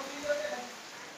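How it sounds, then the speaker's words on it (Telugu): Steady, soft rain hisses over the open hillside at Naneghat in Maharashtra, an even wash of falling water with no distinct drops or breaks. "వర్షం వస్తూనే ఉన్నది."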